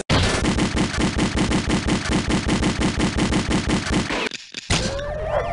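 Gunshot sound effect from the quiz game You Don't Know Jack: a loud, rapid machine-gun burst of evenly spaced shots rattles for about four seconds, then cuts off abruptly into a short silence and a brief echoing tail.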